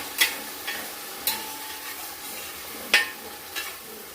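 Ada pradhaman ingredients stirred in ghee make a soft, low sizzle, punctuated by a few sharp scraping strokes of a spoon against the pan at irregular moments, close and fairly quiet.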